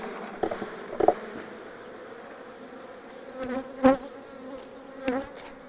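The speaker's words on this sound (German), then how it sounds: "ihr könnt die Bienen direkt hier in die Wabengassen abschütteln, da habt ihr ja Platz drin." Honey bees buzz in a dense drone as they are shaken from hive frames into the comb gaps, with several louder bursts and knocks from the frames.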